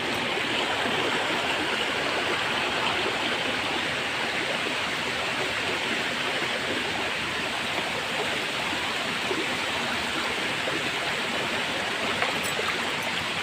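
A flooded creek after heavy rain, rushing water in a dense, steady roar that stays loud and unbroken throughout with no voices.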